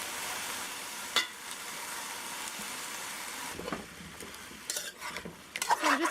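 Soft sizzling of vegetables sautéing in a pot for fish broth, with a few scattered clinks and scrapes of a utensil stirring, quiet and close, no voices.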